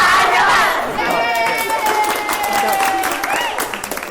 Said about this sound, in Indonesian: biasa yel-yel kontingen Jawa Barat